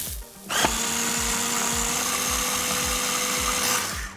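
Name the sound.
blender pureeing vegetables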